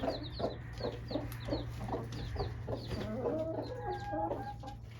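A broody hen clucks in a rapid series of short, soft calls over a low steady hum, then breaks into higher, drawn-out murmuring notes, close by and fairly quiet.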